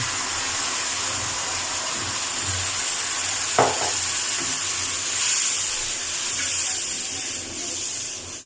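Sugar water is poured into hot halwa in a pan, giving a loud steady sizzling hiss close by that carries on evenly throughout, with a brief clink partway through and no voices.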